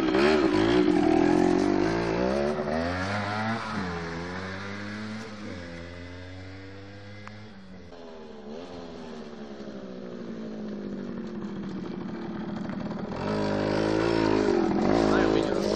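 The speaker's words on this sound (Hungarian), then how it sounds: "Most mi a véleményed a DT50 MX-ről? jó kis öblös hangja van." A Yamaha DT50 MX motorcycle engine revved up close, its buzzy two-stroke note climbing and falling in repeated sweeps, loud throughout and surging again at the end.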